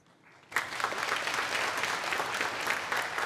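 A church congregation breaks into applause after a brief quiet moment. The clapping is dense and steady and sits at a moderate distance in the sanctuary.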